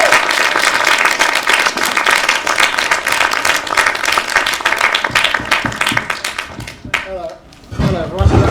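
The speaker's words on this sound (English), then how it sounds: "So please give a lot of love and a round of applause to Paula, Lily, and Louie." An audience at a design showcase gives a dense, loud round of applause that holds for about seven seconds, thins out, and then gives way to a single voice speaking.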